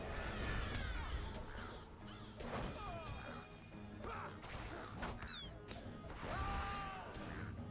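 Bird cawing in the video game Lord of the Rings Online during combat, harsh repeated caws scattered through a busy mix of smacking hits and thuds, moderately loud.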